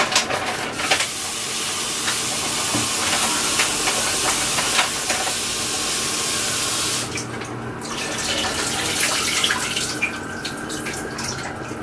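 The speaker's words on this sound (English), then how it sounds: "there's gonna be a lot of popping because this thing is frozen vegetables" Frozen vegetables fry in hot oil for chop suey, a loud continuous hiss and sizzle with crackling pops throughout, quieting somewhat partway before resuming.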